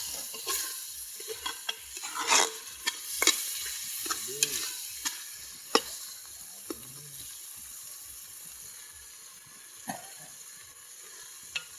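Coconut milk that has turned to oil fries in a pan at an outdoor cooking spot, a soft steady sizzle under scattered clinks and scrapes of a utensil stirring, fairly quiet and close, with no talking.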